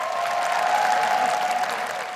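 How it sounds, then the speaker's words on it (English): Dense applause from an awards ceremony audience fills the short stretch, steady and fairly loud, with no voices over it. "Can we give them a great hand of applause?"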